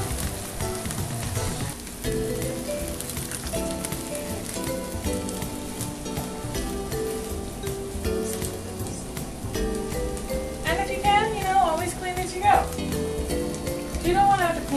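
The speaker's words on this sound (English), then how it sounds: "Remember to keep stirring your mushrooms because you don't want them to stick to the pan." Mushrooms fry in a pan for risotto with a steady crackling sizzle, stirred throughout with soft scraping, close and continuous.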